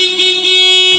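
The stock horn of a Honda Brio sounds one loud, steady, close honk lasting about a second, a bright flat tone that cuts off at the end.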